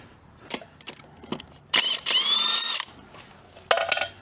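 Wrench breaking loose wheel bolts on a Jeep Gladiator by hand: a few sharp clicks and ratcheting bursts, then a longer harsh metallic grinding rasp and a final brief burst, close and fairly loud with no talk.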